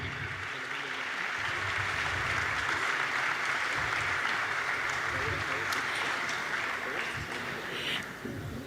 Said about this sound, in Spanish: Demos un fuerte aplauso para recibir a Alberto Lati, periodista y escritor mexicano.